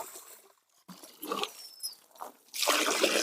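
Water poured over a sack of compost on a farm, giving irregular wet splashes and patters that swell into a steady gush near the end.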